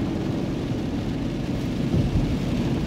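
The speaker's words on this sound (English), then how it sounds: "It's raining." Rain on a car while driving northbound on A1A at Cocoa Beach, heard from inside as a loud, continuous low rumble of rain and road noise with no speech.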